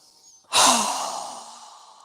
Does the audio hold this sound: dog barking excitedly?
no